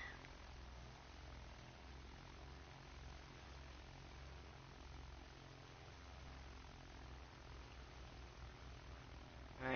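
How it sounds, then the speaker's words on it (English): Steady droning propeller engine of a bomber plane in the Battlefield video game, a continuous low rumble holding evenly throughout with no talking. "Ooh, plane. Let's go with a bomber."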